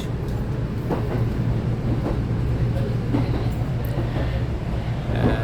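Inside a nearly empty train travelling through hilly countryside in Japan, a constant low rumble carries through the car, with faint periodic rail clicks and a voice speaking now and then.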